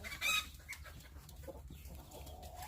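Chicks in a brooder on a Texas farm on a foggy, chilly morning, giving a few brief, high chirps over a low background rumble.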